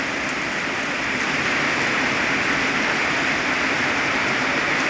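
Heavy rain pours down in winter outside a market shop front in Lampang, Thailand, a dense, steady, loud hiss filling the whole time with no voices.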